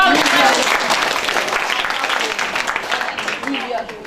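An audience at a school history evening applauds a girl who won, a loud, dense burst of clapping that carries on evenly for about four seconds and tapers slightly at the close.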